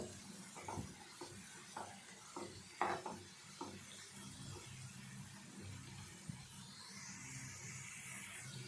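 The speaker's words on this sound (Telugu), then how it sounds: "ఎర్రగడ్డలు బాగా వేగాలి, గోల్డెన్ కలర్ వచ్చేంత వరకు వేగాలి ఎర్రగడ్డలు" Onions frying in a pan until golden, with a spoon stirring and scraping in a steady run of soft strokes over a low, continuous sizzle, close and fairly quiet.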